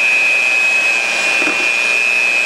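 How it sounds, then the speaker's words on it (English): Blender whirring through cake mix to smooth out the chunks, a steady high-pitched motor whine that runs loud and unbroken for the whole stretch with no talking. "Get your blender."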